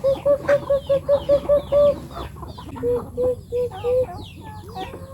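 Chickens raised in a rural Thai village cluck in a steady run of short repeated calls, fairly close, with a softer second burst of clucks and faint background bird sounds.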